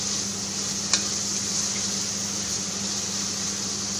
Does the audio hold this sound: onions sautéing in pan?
yes